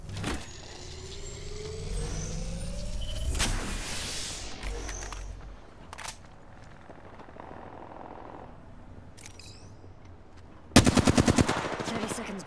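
Battle royale video game firefight: engine and motion noise rumble through most of the stretch, then a loud, rapid burst of automatic gunfire near the end.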